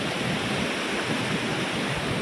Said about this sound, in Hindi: पानी का लेवल बढ़ चुका है और तेज़ी के साथ बह रहा है पानी